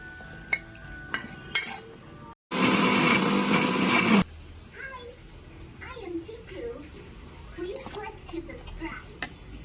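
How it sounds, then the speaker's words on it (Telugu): A loud mixer grinder grinding coconut, tomato, mint and green chilli chutney whirs in one short burst of about two seconds, then stops, followed by clattering and someone talking nearby. "ఈ మిక్సీలో వేసాను కదా గిన్నెలో, ఇప్పుడు గ్రైండ్ చేసుకుందాం"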